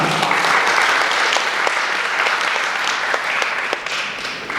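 Wedding guests give warm applause before a congratulatory song, a loud, dense, continuous round of clapping from a nearby audience that holds steady throughout.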